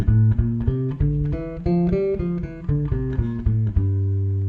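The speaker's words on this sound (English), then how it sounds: "Now the Dorian shape looks like this and sounds like this on G." Bass guitar plays a G Dorian scale shape for blues improvisation, about sixteen clearly plucked notes rising and falling in steady succession, close and full-toned, ending on a held low note, with no voices.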